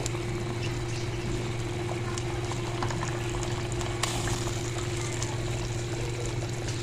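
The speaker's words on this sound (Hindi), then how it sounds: "ये देखें जी, बॉयल आ गया इसको, और ऑयल जो है सारा ऊपर आ गया" Fish masala curry boils in a pan, giving a dense, steady bubbling and sizzling hiss that runs unbroken and close over a low hum.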